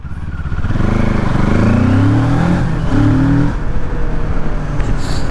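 A QJ Motor SRK700 motorcycle engine revs up loudly and steadily, its pitch climbing and holding in a continuous roar with a brief dip before rising again.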